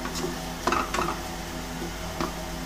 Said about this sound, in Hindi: प्याज को हल्का हल्का भून लें